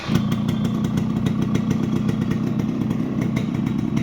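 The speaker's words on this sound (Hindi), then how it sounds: "और अब आप इंजन का साउंड सुन सकते हैं" A restored Yamaha RX100 two-stroke motorcycle engine runs steadily up close, a buzzy, rattling drone holding at an even volume throughout, with no voices.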